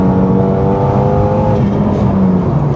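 A Renault Megane RS engine holds a steady, loud rev while driving, a constant droning growl inside the car with no talking.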